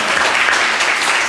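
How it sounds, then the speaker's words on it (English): A church congregation claps for its deacons, a steady, dense wash of applause from many hands filling the room throughout. "would you help me just say thank you to them with a round of applause?"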